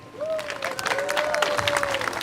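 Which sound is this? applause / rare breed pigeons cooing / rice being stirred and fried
applause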